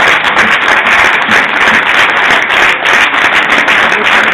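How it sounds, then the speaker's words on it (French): Audience applause at a sports club awards ceremony in Saint-Denis, a dense, steady wash of many hands clapping, loud and close, sustained evenly without pause or voices. "Applaudissez, comme il se doit, Madame Michèle Mollet"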